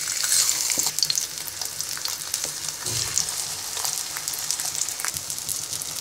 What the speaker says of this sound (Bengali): এবার মিডিয়াম আঁচে এপিট ওপিট করে আমগুলোকে হালকা ভেজে নিব।